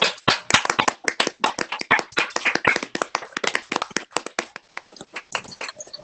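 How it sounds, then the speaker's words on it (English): A small group at a county board of supervisors meeting claps in welcome, distinct close hand claps in an uneven patter that thins out toward the end. "We can do that with claps or waves."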